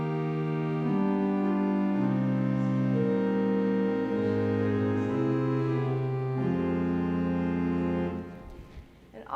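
String-rank organ pipes playing a slow sequence of sustained chords with a shifting bass line, steady and fairly loud, ending with a brief drop; no talk.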